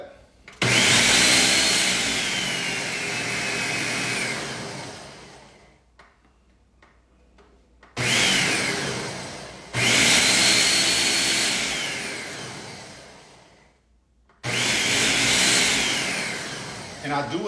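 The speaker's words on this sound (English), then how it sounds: "We're gonna pulse it to start chopping it up, and then we're gonna puree it." A kitchen blender pulses and purees sea moss in several loud bursts of whirring motor noise, each lasting a few seconds and separated by short quiet pauses, with no talking over the motor.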